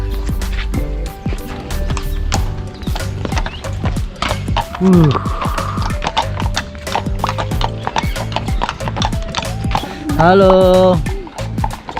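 Police horses walking on a city street in Turkey, hooves clip-clopping in a steady, close rhythm, with a horse whinnying briefly amid street noise and people talking nearby.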